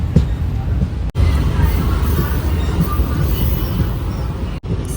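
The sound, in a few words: Intercity Express train running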